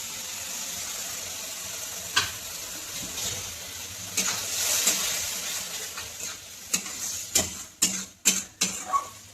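Tomato puree cooks in a pan with a soft, steady sizzle, while a few sharp spoon taps and scrapes punctuate it, growing more frequent toward the end.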